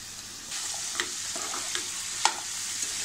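Yam (suran) pieces being stir-fried in a pan, a continuous gentle sizzle with occasional light clicks and scrapes from stirring, close and quiet, with no speech.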